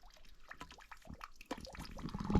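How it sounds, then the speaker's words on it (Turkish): A thin trickle of water running from a cracked spring trough in a highland pasture, faint and close, with small uneven splashes. "Çok az su akıyor"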